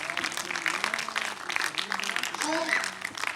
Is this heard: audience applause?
yes